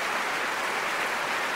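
Audience applause in the Royal Albert Hall after a piano duo performance at the Proms, a dense steady wash of clapping from a large crowd, heard alone.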